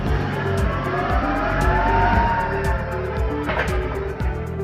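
A truck rolls through an RFID portal at a warehouse, its engine and tires giving a steady, fairly loud rumble with a brief whooshing swell near the end.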